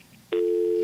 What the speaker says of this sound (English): Is my phone ringing?